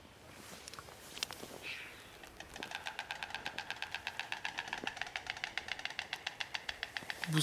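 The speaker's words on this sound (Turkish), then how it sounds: "Bu ses ağaç kakan olabilir." A woodpecker taps out a long, steady run of rapid knocks in a park beside a small lake in Lviv, Ukraine. The sound is moderately close and grows slightly louder, with quieter outdoor ambience underneath.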